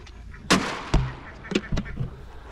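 Ducks honk in a handful of sharp, separate calls at close range, with quieter rustling between the calls.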